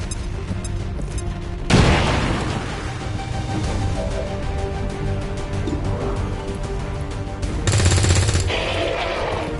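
In the video game XCOM 2, bombs detonate amid gunfire: two heavy blasts, the first near the start and the second near the end, with rapid automatic fire rattling between them, loud and up close.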